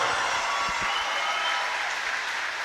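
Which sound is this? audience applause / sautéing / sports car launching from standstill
audience applause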